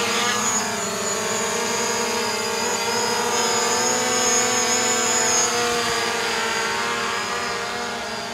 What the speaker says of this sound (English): Let's go ahead and do a takeoff.